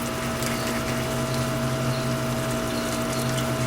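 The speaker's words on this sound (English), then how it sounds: "I'm going to put a little white wine in the can here" White wine pours in a steady stream into an emptied crushed-tomato can in a kitchen, a continuous liquid gush lasting a few seconds over a low background hum.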